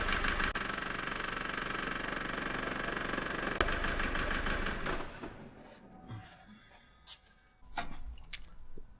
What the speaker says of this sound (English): That's running on 2 cylinders.